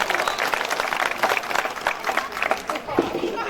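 An audience at a Sipat kavi sammelan poetry gathering, held in memory of martyr Vinod Kaushik, claps in a lively, uneven roar with crowd murmur mixed in, loud and close throughout.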